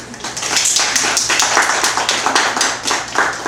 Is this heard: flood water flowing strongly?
no